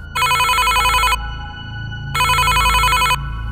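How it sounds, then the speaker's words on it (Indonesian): A phone ringing in a room: two bursts of a loud, bright electronic trill, each about a second long with a pause between, over low background hum and no talk. "Tiba-tiba teleponnya kembali berdering di kamar."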